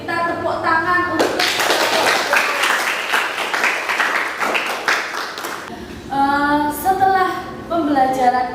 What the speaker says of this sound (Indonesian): Baik, kita tepuk tangan untuk